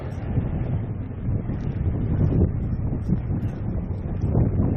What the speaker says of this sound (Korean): 아나 바람 미쳤네